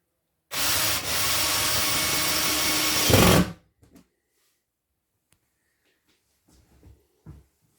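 A power drill drives a screw into the end of a wooden board through a pilot hole, a loud steady whir lasting about three seconds that rises briefly at the finish, followed by quiet handling clicks.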